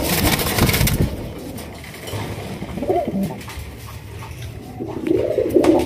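Raj Golla pigeons in a pigeon house give repeated low, throaty coos close by. The calls come in bursts, with some rustling and scuffling noises between them.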